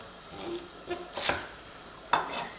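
A knife chops vegetables into matchsticks on a cutting board in a few irregular strikes, crisp taps close by with short pauses between cuts.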